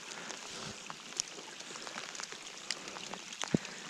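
Rain falls during a pike fishing trip outdoors, a steady hiss with scattered sharper drops and taps landing nearby, with no voices over it.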